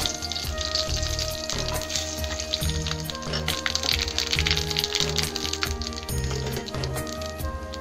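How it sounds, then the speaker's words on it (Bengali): Bay leaves and whole cumin seeds sizzle and crackle in hot oil in a wok, a steady, close, dense frying hiss with scattered pops running throughout, no voices. "তেলটা গরম হয়ে গেছে, দিয়ে দেবো দুটো তেজপাতা আর গোটা জিরা।"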